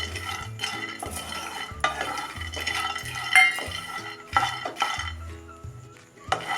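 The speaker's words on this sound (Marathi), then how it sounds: "हे शेंगदाणे मी भाजलेलेच घेतलेले आहेत हे फक्त आपण थोडेसे गरम करून घ्यायचे आहेत" Already-roasted peanuts warming in a pan are stirred with a utensil, giving repeated close scraping and rattling strokes and light metallic clinks against the pan, with no talk.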